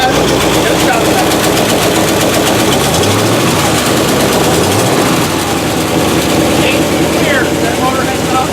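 An old motor that had not run before fires up after its carburetor was rebuilt, a loud rough continuous engine roar with a pulsing low rumble, and excited voices shout over it nearby.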